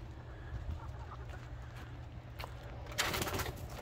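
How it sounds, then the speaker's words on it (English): Hens cluck at morning feeding time with a rooster nearby, a steady low flock murmur running throughout and a louder burst of clucking near the end. "I gotta get up and feed the chickens."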